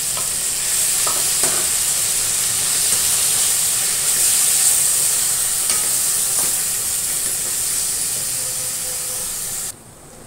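A bottle gourd halwa mixture with ghee is stirred and roasted in a pan, producing a steady close sizzle and hiss with occasional scraping stirs, then quieting abruptly near the end.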